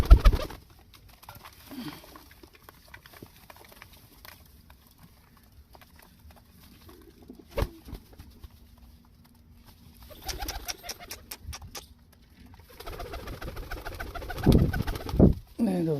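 A pigeon from Gujarat coos softly in a quiet space with scattered rustles and flutters, followed later by louder clattering and shuffling bursts near the end.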